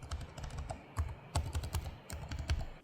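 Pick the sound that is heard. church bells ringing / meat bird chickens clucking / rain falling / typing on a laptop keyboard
typing on a laptop keyboard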